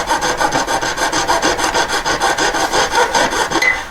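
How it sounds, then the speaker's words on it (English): A jeweler's hand saw rasps back and forth through a metal ring band on a bench peg in a fast, even rhythm of strokes, close and loud, with no talking. "It's like sawing the peg and my metalwork."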